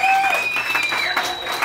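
Crowd applause at a live band contest as the day's winning band is announced, steady clapping and cheering filling the whole moment, with a voice speaking over it.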